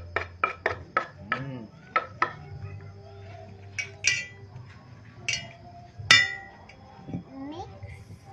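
A spoon or utensil scrapes and clinks against a bowl while a vegetable bola-bola mixture with ham and spring onion is stirred, in quick rhythmic taps that later thin out to scattered knocks, with a few brief bits of speech.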